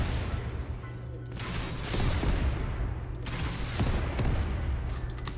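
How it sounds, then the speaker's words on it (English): A burst quad launcher fires in a video game, letting off quick rocket bursts with sharp cracks and booming rumbles over a busy low engine-like hum, loud and close, several salvos in a few seconds. "And here is the burst quad launcher."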